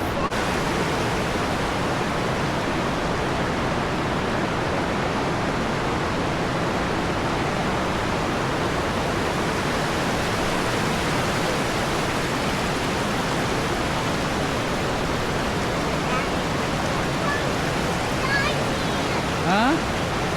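A river flows through a forest, making a steady, dense rush of water that stays even and close for the whole stretch.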